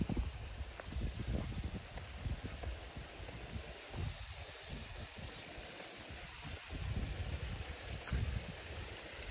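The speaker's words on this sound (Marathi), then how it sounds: "कंटिन्यू पाणी" Stream water flowing continuously during a monsoon fort trek, a dense steady rush that stays even and fairly loud throughout, with no voices.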